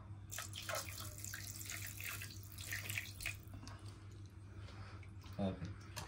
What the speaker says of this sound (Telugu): ఇందులో కొంచెం నీళ్ళు వేసుకుందాం